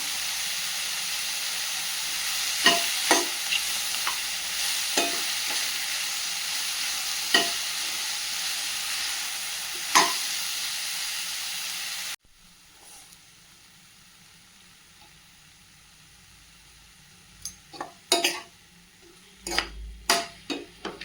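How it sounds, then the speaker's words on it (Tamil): Mushrooms sautéing with salt in a pan for a mushroom pepper fry: a steady, close sizzle broken by regular spatula scrapes, then the hiss drops away abruptly, leaving a quiet stretch with a few sharp stirring clicks and knocks near the end. "காளான் கொஞ்சம் நல்லா வதங்கி வந்துருச்சு."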